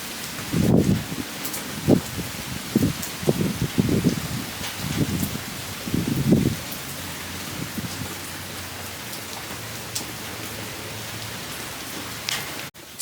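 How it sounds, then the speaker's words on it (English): Wind-driven rain patters steadily against nearby surfaces, with a burst of heavier gusty splashes early on, then a fainter, even hiss as it settles. "So the wind is just blowing back the rain and like putting like all sorts of droplets onto my computer."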